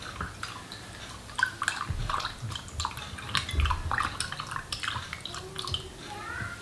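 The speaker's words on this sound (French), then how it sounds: "Et il ne nous reste plus qu'à ajouter notre eau avec la levure." Water mixed with yeast poured into flour and flaxseed for small bread rolls, a continuous splashy trickle with soft drips up close, while a voice talks over it.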